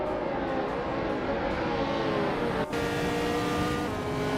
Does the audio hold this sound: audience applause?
no